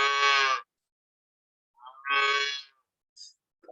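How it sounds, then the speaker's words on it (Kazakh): A calf moos in a played recording: two drawn-out, clear bleating moos with a long pause between them, fairly loud and close, followed by a short faint call at the end. "Бұл сиырдың төлі, бұзаудың дауысы екен."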